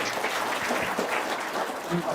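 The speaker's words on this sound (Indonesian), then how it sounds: "Yuk, tepuk tangan dong." An audience at a talk claps together in a short burst of scattered, moderately loud applause, with voices mixed in.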